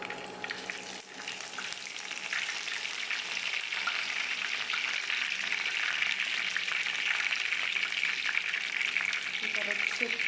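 Curry leaves crackle and sizzle in hot refined oil, a steady dense frying hiss that holds and slightly builds over the whole stretch, close by, with faint talk in the background.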